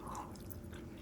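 Crunchy homemade gyoza being chewed close up, a steady run of soft crisp bites and mastication with no talking over it.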